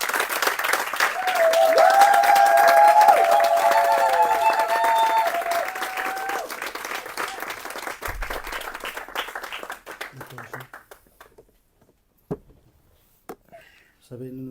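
A church congregation at a Sunday worship service applauds and cheers loudly, the clapping swelling and holding for several seconds with a sustained voice over it before fading to sparse sounds and quiet.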